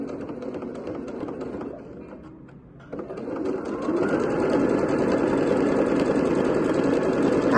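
A sewing machine stitches fabric along a pocket seam, starting with a short back-and-forth backstitch and a brief pause, then running in a steady, close, rapid mechanical chatter to the end.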